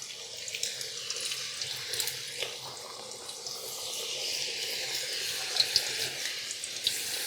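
Fresh cut french fries frying in hot oil give a steady bright hiss and crackle, close and continuous, swelling slightly partway through with occasional pops.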